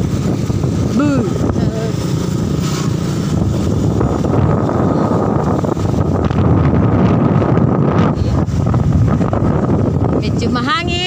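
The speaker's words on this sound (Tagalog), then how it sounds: "Medyo mahangin." Steady wind buffeting a microphone outdoors while riding past a subdivision, a loud continuous rumble with vehicle engine noise underneath and brief bits of talk.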